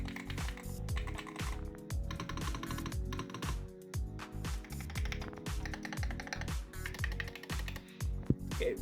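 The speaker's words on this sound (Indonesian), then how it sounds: "kalau bandingin ya nih kayak mechanical ini sama keyboard gue yang sekarang" Fingers type on a mechanical keyboard in a fast, close, continuous stream of clicky keystrokes with brief pauses, heard alone without talk.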